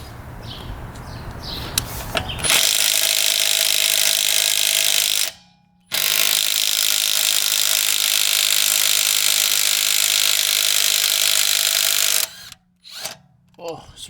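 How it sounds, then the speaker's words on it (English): A Bosch Freak Lite impact wrench at a 100 foot-pounds torque setting, two long loud bursts of steady hammering whine broken by a brief pause, with short clicks and handling noise at the start and end. "we're gonna test out the Bosch Freak Lite here for 100 foot-pounds of torque"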